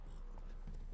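Horse hooves clip-clop in a fantasy video game with a witcher and monsters, a brief muffled run of hoofbeats over a dense game soundtrack and ambience.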